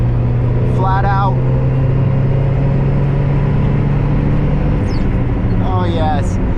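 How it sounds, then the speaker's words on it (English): Steady engine drone from a car driven flat out up a hill, a Mazda Miata or Nissan 350z, with a low constant hum throughout and brief speech-like bursts at the start and end. "it's just the sensation of being able to floor this car in any gear"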